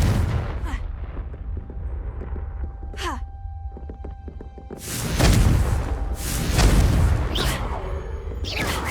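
Confringo blasting spells from the Hogwarts Legacy video game fire off in bursts of booming explosions with sharp cracks and rumbling tails, some distant and some close, mixed with magical whooshes and a few short vocal shouts from the game.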